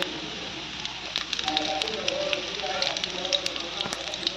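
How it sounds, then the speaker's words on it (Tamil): Fennel seeds and cumin crackle and sizzle in hot oil, a steady hiss with scattered pops, while a voice talks over it. "சோம்பு சீரகம் 2 தாளிக்கிறேன்."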